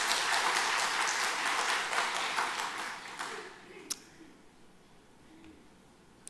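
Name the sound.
audience applause in church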